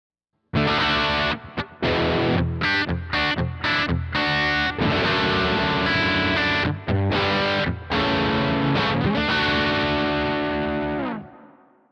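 Stereo electric guitar played through effects, a dry mono signal flanked by wet stereo reverb, with distorted, chorus-tinged chords and notes ringing steadily for about ten seconds before a reverb tail fades out.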